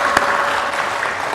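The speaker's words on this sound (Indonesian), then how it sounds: "Tepuk tangan boleh untuk Anda semua." Audience applause at a talk show session, a dense continuous patter of many hands clapping that fills the room evenly throughout.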